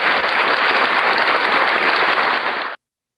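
Steady, dense applause from a conference audience fills the room at full strength for under three seconds, then cuts off abruptly into silence.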